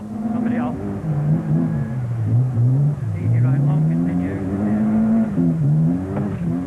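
Heard from inside Malcolm Wilson's Vauxhall Astra rally car on a fast, muddy, sleety 1989 stage, the engine revs rise and fall through repeated gear changes as the car charges along.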